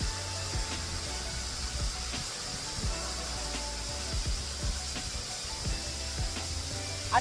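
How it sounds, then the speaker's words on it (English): Asenema waterfall rushes as a steady, even hiss of falling water, fairly faint and continuous, with a few low thumps and bumps close by. "So I'm here at Atinima Waterfall"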